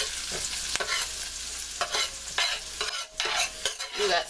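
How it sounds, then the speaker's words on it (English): Garlic sizzles in a frying pan alongside drained pasta for a vegetarian pumpkin dish, a steady bright hiss with scattered crackles and brief stirring knocks, close and fairly loud, with no voices. "Now I'm going to add my garlic"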